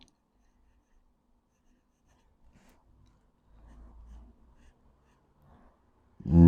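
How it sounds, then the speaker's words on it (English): Broad steel Bock nib fountain pen, filled with Robert Oster ink, scratching across paper in a few soft, brief strokes, faint and close, ending with a louder handling bump. "Really, really lovely pen to write with."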